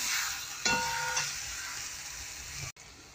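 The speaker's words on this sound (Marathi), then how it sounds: "दोन ते 3 मिनिटांनी भाजी छान शिजलेली असेल तर त्याला परत एकदा आपण परतून घ्यायचं आहे" Spring onion greens sabzi stir-frying in a pan, with a steady close sizzle and hiss, a brief scrape of stirring, and a sudden cut near the end.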